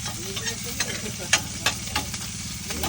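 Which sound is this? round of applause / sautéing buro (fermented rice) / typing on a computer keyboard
sautéing buro (fermented rice)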